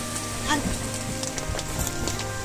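Heavy rain hammers down around a moving auto-rickshaw in a dense, steady patter with scattered sharper drops, while engine hum and voices carry through the downpour.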